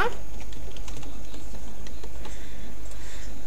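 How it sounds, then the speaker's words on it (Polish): Computer keyboard keys tapped while entering a password, a light, irregular run of small clicks over a steady low hum, fairly close and with no talking. "Tutaj znowu wpisujemy swoje hasło."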